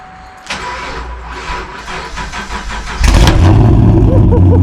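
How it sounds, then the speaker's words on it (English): A supercharged Camaro that has sat unused turns over with a whirring starter crank, then catches and bursts into a loud, deep, rumbling idle, close up and without speech. "This one is going to be my Camaro, which probably hasn't been started in a while."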